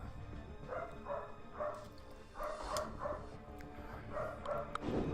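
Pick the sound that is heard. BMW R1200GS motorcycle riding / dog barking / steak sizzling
dog barking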